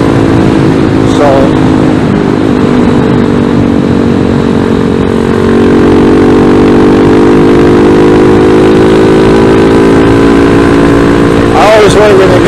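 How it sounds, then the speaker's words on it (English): A ZS190 Grom clone motorcycle engine runs steadily near the mic with a quieter exhaust, its low harmonic drone shifting in pitch slightly as it rides along for the whole stretch. "The ZS190 is running really well again this year."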